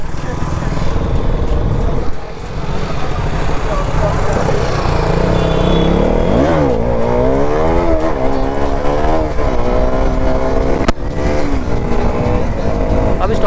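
Kawasaki Ninja ZX-10R motorcycle engine revving through a wheelie, the pitch sweeping up and down in a loud, close, rising and falling whine with voices in the background.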